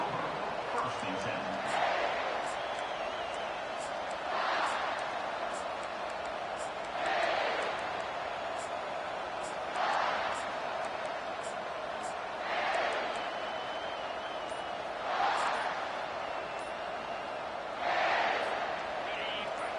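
Football stadium crowd roaring against the opposing offense, a broad sustained rumble that swells in regular surges every few seconds, with a commentator talking over it.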